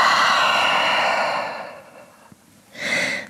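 Deep breaths taken in downward dog yoga pose, a long loud airy exhale that fades out, a short pause, then a fresh sharp inhale, close and without talk.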